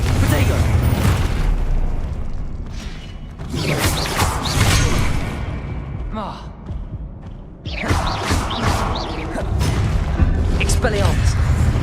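Booming spell blasts from a Confringo fire spell in Hogwarts Legacy, several loud whooshing explosions in quick succession mixed with game effects and a voice shouting over them.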